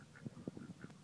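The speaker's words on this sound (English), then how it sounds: "You can hear the ducks in the background." Soft, distant duck quacks, several short calls spaced irregularly, faint against a quiet outdoor background.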